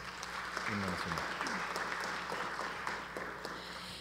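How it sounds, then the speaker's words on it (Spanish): Applause fills a ceremony hall at the 38th anniversary event of a university's Professional School of Physical Education, steady clapping from a seated audience with faint voices underneath. "también retribuimos con un fuerte voto de aplauso"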